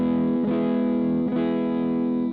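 An electric guitar with its bridge pickup volume turned almost all the way down rings out in two sustained strummed chords, dark and muddy with the treble rolled off, loud and alone.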